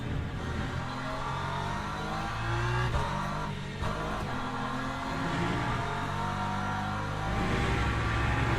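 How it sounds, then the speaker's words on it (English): An LMP2 prototype race car in the Le Mans Ultimate racing game roars past, a dense, continuous engine drone with shifting pitch over steady loud noise. "Another LMP2 coming through, chat."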